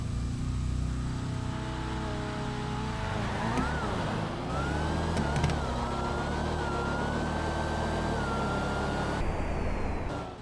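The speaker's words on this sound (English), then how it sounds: "that was a good drag race" Cars drag racing in the GTA video game, a Z against a Hellcat: engine tones roar steadily, climbing and shifting in pitch as the cars accelerate, with a sustained whine layered over a dense, loud rumble.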